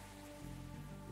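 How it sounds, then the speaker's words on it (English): Rain falls steadily in the factory-building video game Captain of Industry, a soft, faint, continuous patter lasting a moment with no talking over it. "Rain is coming down."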